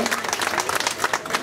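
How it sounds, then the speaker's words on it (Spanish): A crowd applauds the actors at the 2011 Festival del Maíz in Yucuaiquín, giving quick scattered claps that rise and fall in bursts, with some voices mixed in. "Un fuerte aplauso para los actores de Yuko Kim."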